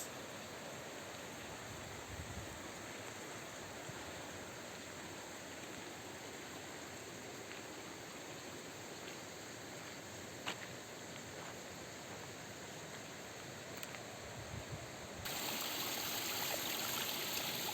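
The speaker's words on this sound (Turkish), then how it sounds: "başlangıcı şurada akan bir dere mevcut" A creek runs past a plot of land in a valley, giving a steady, broadband rush of flowing water that stays close and even throughout and swells slightly louder near the end, with no talking.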